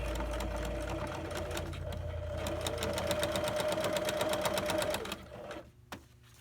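A sewing machine stitches the front and back waistbands together, a fast close run of regular needle clatter under a low motor hum that stops abruptly near the end.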